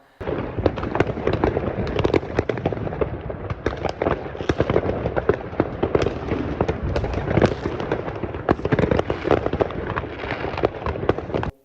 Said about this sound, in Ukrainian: Я подивився на салютики.